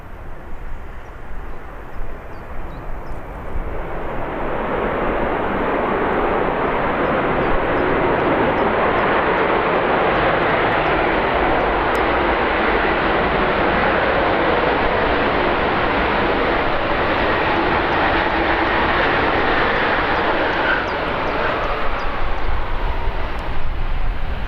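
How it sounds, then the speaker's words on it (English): A Ryanair passenger jet lands at Birmingham airport, throwing up smoke on touchdown. A loud, broad engine roar swells over the first few seconds and then holds steady and close for the rest of the clip, with no talking. "Nice smoky landing by Ryanair there."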